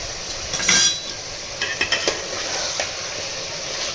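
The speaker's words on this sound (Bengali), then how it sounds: "দিয়ে আবার নাড়তে থাকবো।" Ground red chilli, Kashmiri chilli and cumin powder stirred into mutton korma in a pan: a spoon scraping and clinking against the metal over a soft steady sizzle, with a few distinct knocks in the middle; no voices.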